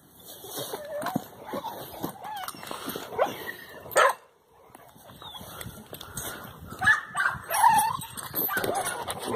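Pit bull-type dogs in an outdoor kennel yard bark in short bursts and whimper and yip between them, several animals at varying distances, with someone talking intermittently among the noise.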